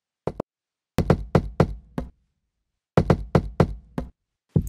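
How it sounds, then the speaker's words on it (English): A resonant, snare-like knock made by banging random objects, used as a beat in a track. It sounds as dry, close, punchy hits in short rhythmic bursts separated by silence. "the snare has this resonant knock to it"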